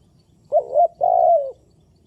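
Spotted dove cooing in the Thai countryside, a clear close call of two short soft notes followed by a longer drawn-out coo, alone against quiet background.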